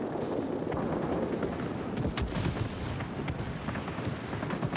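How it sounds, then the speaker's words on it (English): Gunfire from an aircraft in the World of Warplanes combat game, flying a Ho 229, runs as a steady, dense rattle of shots over engine roar, loud and continuous throughout. "this gunfire is so slow"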